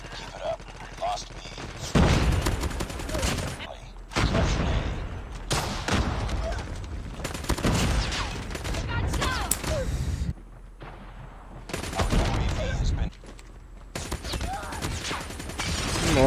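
Razorback gun in Call of Duty Mobile firing rapid bursts, with rattling volleys and explosions coming in loud clusters between short gaps, while a player talks over the gameplay.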